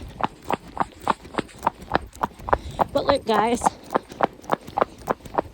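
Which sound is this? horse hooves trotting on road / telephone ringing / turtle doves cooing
horse hooves trotting on road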